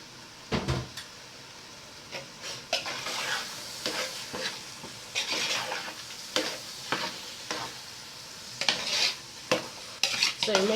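Half-cooked beans being stirred into jollof rice made with leftover stew in a pot, with repeated scraping spoon strokes and clatter over a continuous sizzle, close and fairly loud, no voices.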